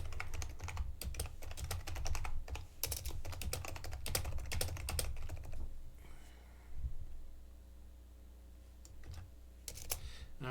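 Rapid typing on a computer keyboard clatters close by for about six seconds, a dense run of sharp key clicks, then stops, with a few scattered taps and faint background after.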